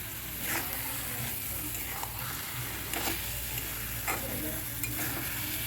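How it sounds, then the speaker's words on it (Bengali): Grated red carrot halwa, reduced in milk with sugar just added, is stirred in a pan: a soft, steady sizzle with a few distinct scraping strokes at regular intervals, fairly quiet overall. "চিনিটাকে দিয়ে আমি আবার নেড়ে নেব।"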